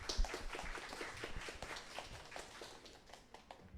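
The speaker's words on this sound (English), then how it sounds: "let's give a round of applause to Mr." An audience claps for a guest at an open mic poetry reading in a faint, scattered round of applause that thins out over a few seconds.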